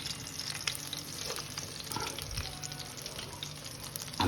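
Eight sausages sizzle and crackle in a tray of very hot oil for toad in the hole, a steady, fairly quiet frying hiss with small pops throughout.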